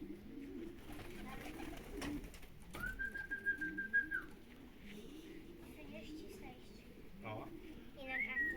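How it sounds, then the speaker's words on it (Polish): Racing pigeons cooing at a loft, soft, repeated low coos in a rolling rhythm, with a bright whistle-like note and people, including a child, talking quietly nearby. "Jest gołąbek kolejny. Zaraz będzie siadał."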